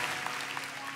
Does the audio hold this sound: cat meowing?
no